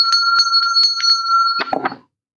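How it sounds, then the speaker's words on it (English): A bell rings loudly with rapid repeated strikes of a bright, sustained metallic tone, then a few rattling, clattering hits before it cuts to silence at about two seconds. "ringing the bell for a true smile"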